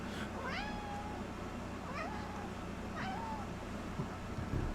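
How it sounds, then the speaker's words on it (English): A cat meows three times in a row, each call rising then falling, fairly close over a low steady background hum. "The cat showed up to yell at us."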